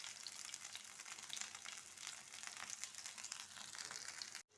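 Brinjal (eggplant) pieces fry in coconut oil in a pan, giving a continuous soft crackling sizzle at close range with no talking.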